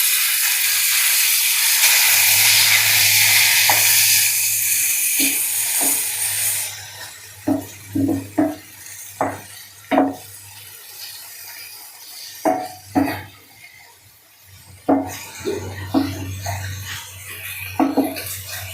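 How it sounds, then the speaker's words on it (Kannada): Carrot and beetroot are stirred in a hot pan of tempering with onion, a loud sizzle that gives way to scattered scraping and clinking strokes of the spoon. "ಇವಾಗ ಒಂದು ಜೆಂಟಲ್ ಮಿಕ್ಸ್ ಕೊಡೋಣ."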